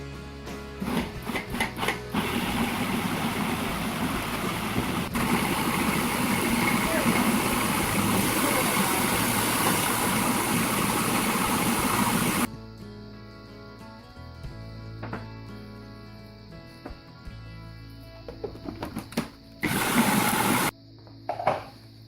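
Blender pulsing almond milk pesto in bursts, a dense whirring roar for about twelve seconds, then quieter stretches with short clatters and another brief loud pulse near the end.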